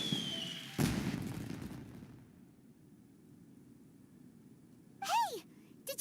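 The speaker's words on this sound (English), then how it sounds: "Did you hear that explosion? Maybe it was fireworks." A single sharp, loud explosive burst near the start of a video-game fireworks scene, fading into quiet ambience, with a brief descending whistling tone later on.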